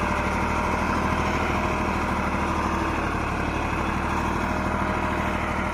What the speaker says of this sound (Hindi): देखो भाई 35 HP ट्रैक्टर है भाई, छोटा सा ट्रैक्टर है देख लो, 3 का पलाव जोड़ रहा है